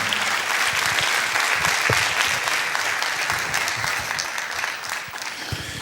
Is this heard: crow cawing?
no